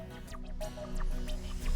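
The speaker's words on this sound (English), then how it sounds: "we can add the coconut milk" Coconut milk poured into a white coconut chutney mixture ahead of grinding, giving a soft, close liquid splashing and dripping that runs steadily for a couple of seconds with no voices.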